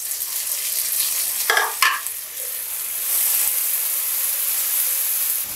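Chopped tomatoes go into a pan of frying onions. A couple of sharp splashing bursts give way to a steady, close sizzle and hiss that keeps on alone.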